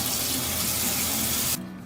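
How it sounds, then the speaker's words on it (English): Hands washed with hot water and soap under a running tap, a loud steady rush of water that stops abruptly near the end, leaving quieter room tone. "always make sure to wash your hands with hot water and soap"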